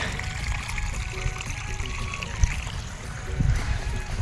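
Water trickling and flowing through a flooded rice field on a farm after rain, a steady close babbling wash with faint splashes and no talk.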